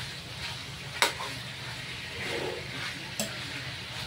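Pork frying in its own rendered fat for adobo: a steady, soft sizzle and crackle runs throughout, with two sharp clinks of a utensil against the pan.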